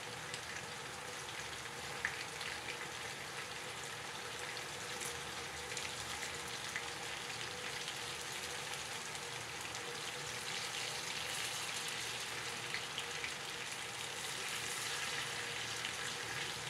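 Food sizzles in a pan in its own rendered oil, giving a steady, even crackling hiss that holds at a moderate level throughout with no voices.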